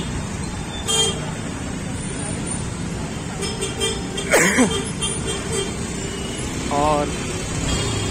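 Jammed road traffic in Pauri, with several car horns tooting at intervals over a constant engine and road rumble, while someone talks at times nearby.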